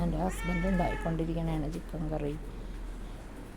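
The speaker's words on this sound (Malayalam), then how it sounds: "ഇത് ഞങ്ങളുടെ പൂച്ചയാണ്" A white house cat meows several times in quick succession while someone talks over it, then her voice continues alone.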